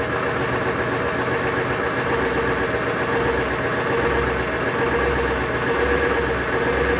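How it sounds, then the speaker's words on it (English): A school bus engine idles roughly in winter cold, misfiring and not running on all cylinders, a steady close rumble with uneven low pulsing that carries throughout with no talk. "Alright, so we're running, but pretty sure we're not firing on all cylinders here."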